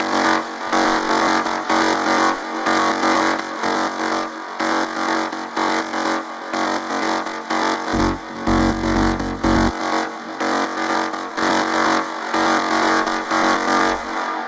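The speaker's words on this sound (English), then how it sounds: "So I had this preset that I've called Monique Gritty Pluck and it sounds like this." A gritty, aggressive synth pluck preset for melodic techno, played dry with no reverb, sounds as a dense, loud repeating pattern that runs through the whole stretch, with brief low thumps near the middle and end.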